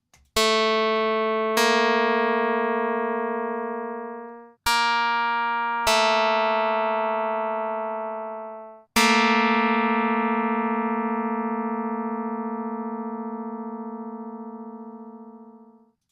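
An augmented unison in Pythagorean tuning sounds as clean synthesized tones, one note then the other and then both together, each struck sharply and decaying slowly, close and alone without any voice.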